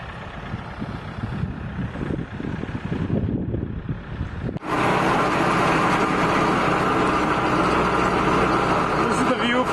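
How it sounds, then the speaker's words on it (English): A tractor pulling a digger through ginseng beds during root harvest, wind buffeting at first, then a loud, steady engine drone from close by that carries on under occasional talk. "Within the tractor as we're digging the roots out of the ground."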